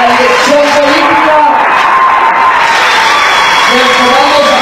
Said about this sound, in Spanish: pedir un gran aplauso para nuestros alcaldes y alcaldesas de Guayana